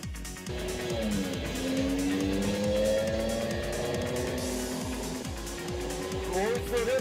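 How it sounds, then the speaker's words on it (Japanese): A 1980s Super Silhouette Formula race car rounding the final corner of a circuit, its engine loud and rising in pitch through repeated gear changes, with a commentator speaking over it. "トップ長坂、これから最終コーナーを回ってゴールを目指す"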